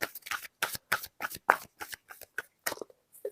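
Tarot cards are shuffled by hand in quick, crisp bursts of riffling and flicking, with short pauses between the close, dry snaps.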